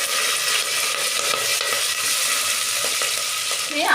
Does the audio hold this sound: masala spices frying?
yes